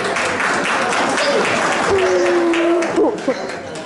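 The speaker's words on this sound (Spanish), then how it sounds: "denle un aplauso a la Camila" A church congregation claps for Camila during a Sunday sermon, a steady, dense wash of applause filling the room, with voices talking over it and a few louder claps near the end.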